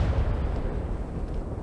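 Booming ship cannon fire from a naval battle video game involving a Black Butterfly galleon, a heavy low rumble that rolls on continuously as distant blasts.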